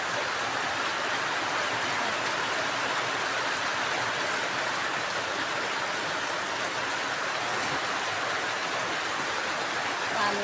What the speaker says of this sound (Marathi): किती म्हणजे जोरदार पाऊस आहे रे बाप रे बाप